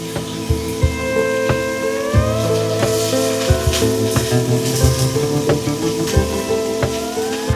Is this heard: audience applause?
no